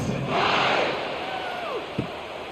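Simulated stadium crowd in the EA College Football '26 video game, a broad roar of cheering fans at a San Jose State at Texas matchup, continuous and loud with a swelling surge early on.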